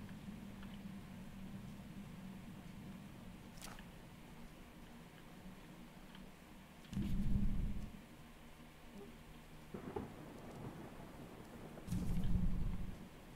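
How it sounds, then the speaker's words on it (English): Thunder rumbles in a stormy Choo Choo Charles game scene, faint low booms arriving in two separate swells over a quiet, hissing rain-like background with a steady low hum. "Thunder makes me jump."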